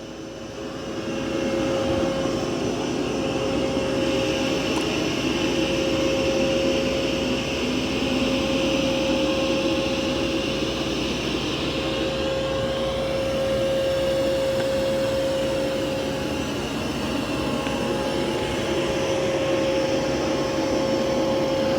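A Mova P10 Pro Gen 2 robot vacuum runs on maximum suction boost over carpet, giving a steady, loud, continuous whine with a strong tonal hum. It holds without a break for the whole stretch, and no voices are heard.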